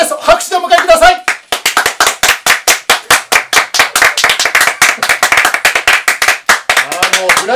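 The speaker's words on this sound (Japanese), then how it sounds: "拍手でお迎えください。" Audience at a Japanese radio station press conference claps to welcome a radio announcer who has won a personality award, a loud rhythmic patter of many hands that starts after a brief spoken introduction and carries on to the end.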